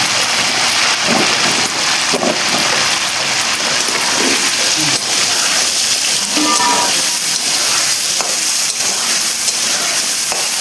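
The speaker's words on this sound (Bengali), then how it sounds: "এখন এই তেলের মধ্যে আমি আলুগুলো ভেজে তুলে নেব।" Potatoes frying in hot oil give a steady, dense hiss and crackle that runs unbroken throughout, with faint clinks and background knocks mixed in.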